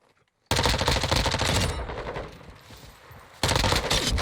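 Automatic gunfire from Modern Warfare II while running around shooting bots: dense rapid bursts of shots, loud and close, a quieter gap in the middle before another burst at the end.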